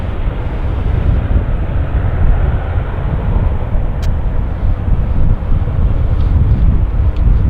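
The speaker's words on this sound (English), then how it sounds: "prop noise is nice" Propeller airplane at Vancouver Airport, heard as a loud, steady low rumble and drone mixed with heavy wind buffeting on the microphone, continuous throughout with one brief sharp click.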